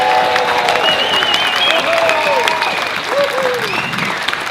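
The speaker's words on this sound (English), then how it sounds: "get a huge round of applause for Greenpeace and all the work they put in today" Rally crowd applauding and cheering at a Sydney protest against bulldozers clearing Leard State Forest for coal, a dense sustained roar of clapping with whistles and shouted cheers throughout.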